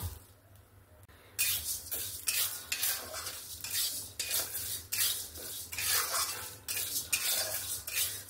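Moong and toor dal being dry-fried in a kadai, a spatula scraping and stirring the lentils in repeated strokes against the metal pan, close and crisp, after a brief quiet start.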